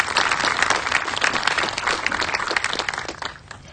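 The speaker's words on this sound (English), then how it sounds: "Let's give them a big round of applause." An audience at a community Gandhi event in Clarksdale bursts into sustained applause, many hands clapping densely and evenly before tapering off at the end.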